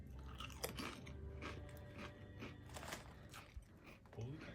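Close, crisp crunching of barbecue-flavoured potato chips being chewed, with bites and crackles repeating irregularly over several seconds against a low background murmur.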